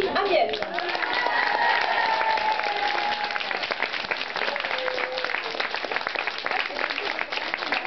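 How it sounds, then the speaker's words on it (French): Steady applause from an audience at an intimate acoustic concert showcase in Tours, a dense wash of clapping that stays loud and continuous for the whole stretch, with a few voices and cheers mixed in near the start. "Merci d'accueillir et d'applaudir chaleureusement"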